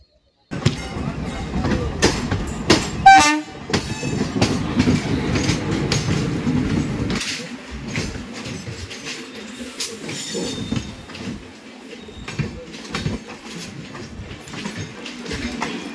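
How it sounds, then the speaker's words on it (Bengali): A local train rolling into Chennai Central railway station: loud rhythmic clickety-clack of wheels and rumbling carriages from inside the train, with a brief screech, then the rumble eases as it slows. "ফাইনালি আমাদের ট্রেন প্রবেশ করছে চেন্নাই সেন্ট্রাল রেলওয়ে স্টেশনে"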